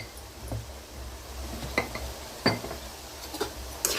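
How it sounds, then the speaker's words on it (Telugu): Cabbage fry being stirred in a pan, with a few scattered scrapes and clinks of a spoon against the metal at a moderate, uneven pace over a low background hum. "ఇదంతా మంచిగా కలుపుకోవాలి"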